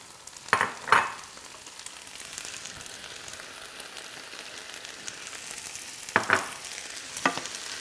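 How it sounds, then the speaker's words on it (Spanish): Half an onion, sliced very thin, sizzles in a pan with a steady soft crackle, punctuated by a few louder stirring scrapes and pops near the start and end; no voices. "La cebolla era media cebolla, finita, finita, finita. Ya empezó a tronar."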